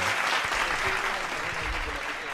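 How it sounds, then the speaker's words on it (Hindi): Audience at a Hindi poetry and performance event applauds to welcome a poet to the stage, a dense, steady round of clapping that fills the clip. "जोरदार तालियों से एक बार स्वागत हो जाए।"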